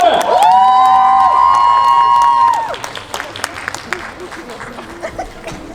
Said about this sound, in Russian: Громче, громче, аплодисменты!